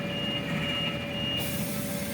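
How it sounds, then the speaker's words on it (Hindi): A steady electronic alarm tone sounds continuously from a mobile jaw crusher's control system, with a constant high whine over low machinery rumble throughout. "जो इसका अलार्म बज रहा है वो भी बंद हो जाएगा"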